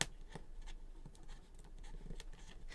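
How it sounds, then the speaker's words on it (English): Adhesive tape peeling off paper on a watercolor candle card, a series of soft, close scratchy crackles and small ticks spread over a few seconds, quiet and alone. "So I'm going to pull the tape off."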